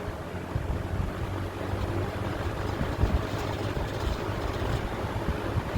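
A Markel 20-inch box fan runs on high speed with a steady, dense broadband whoosh, its aging badge plate adding a faint rattle under the constant airflow noise.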